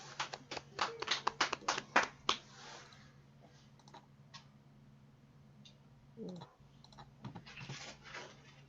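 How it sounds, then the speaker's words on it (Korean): Sparse applause from a small seated school audience welcoming a ninth-grade student presenter, a few seconds of distinct, separate claps that quickly die away into near quiet with faint stirring. "앉으신 자리에서 박수로 환영해 주시면 감사하겠습니다"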